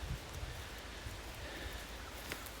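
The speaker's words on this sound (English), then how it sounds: "It's pretty daggum windy" Steady wind buffets and rushes across the mic outdoors at a hunting spot near a ladder stand, a broad, continuous roar with occasional low gusty thumps.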